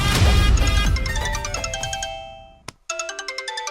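A mobile phone ringtone plays loudly and close: a bright repeating melodic chime that fades, breaks off briefly, then starts again with a regular pulsing pattern, no voices over it.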